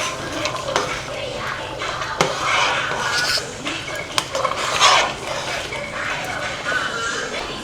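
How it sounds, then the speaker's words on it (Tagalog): Sautéed mung beans with chicken cubes stirred in a large pot for a big batch of ginisang monggo: steady scraping and clinking of a ladle against metal, with a light sizzle and a few sharp knocks, close and alone. "Then, halu-haluin lang natin."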